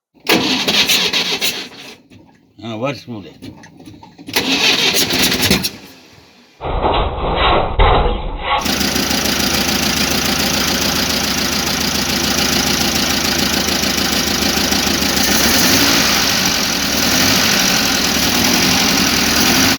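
A UAZ Bukhanka van engine cranks in several rough bursts with gaps, then catches and settles into a steady, loud idle that runs on alone for the rest of the time.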